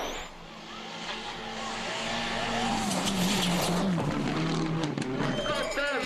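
Rally car driven flat-out on narrow forest roads at Rally Norway 2007, engine roaring loud and continuous with rising revs, tire and gravel noise, under a commentator's voice.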